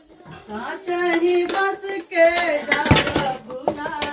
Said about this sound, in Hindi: और ये देखिए यहाँ पे बर्तन डाल देते हैं हम लोग।